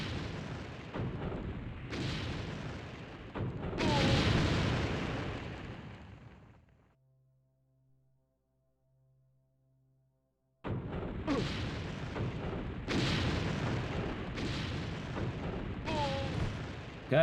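Enemy gunfire and explosions in a poorly made shooter video game, dense rumbling bursts of shots and booms that cut out for a few seconds of near silence before resuming just as heavy.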